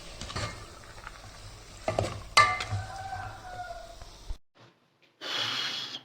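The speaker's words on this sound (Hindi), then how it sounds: "अब इसमें डालते हैं हम फलियाँ और आलू" Beans and potatoes drop into a sizzling tomato and green chili masala in a pot, giving a loud burst of frying with stirring and scraping, then a brief near-silence before the hiss resumes strongly.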